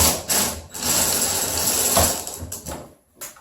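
A power drill drives a number 8 self-drilling screw while mounting a bathroom vanity light fixture, a loud, steady whirring grind with short stops and restarts, close by and alone.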